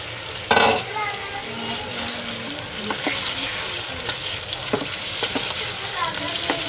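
Meat sizzles loudly as it hits onions already softened in hot oil for aloo gosht, a steady crackling fry with stirring clatter and a sharp burst near the start, continuing throughout.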